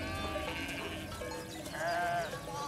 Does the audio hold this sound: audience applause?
no